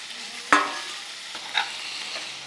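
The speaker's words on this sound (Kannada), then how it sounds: "ಎಣ್ಣೆ ಹಾಕ್ತಾಯಿದ್ದೀನಿ ಫ್ರೈ ಮಾಡ್ಕೊಳ್ಳೋಕ್ಕೆ ಪನ್ನೀರ್ ಹಾಕ್ತಾಯಿದ್ದೀನಿ" Paneer frying in hot oil in a pan, a soft sizzle with a sharper crackle as pieces go in and a second small burst later, fairly quiet and with no talking.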